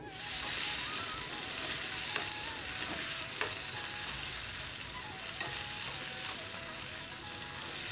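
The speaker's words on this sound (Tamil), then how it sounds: "இது எல்லாத்தையும் போட்டு நல்லா வதக்கிடலாம்." Garlic, curry leaves and a little coconut sauté in a hot pan for kalakai chutney, giving a loud, steady sizzle with occasional spoon scrapes and stirring clicks throughout, no talking.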